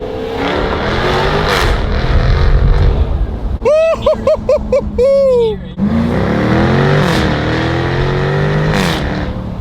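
A loud supercar engine with stock tune and stock exhaust roars steadily up close, broken midway by a burst of rising and falling revs, with the engine noise continuing afterward.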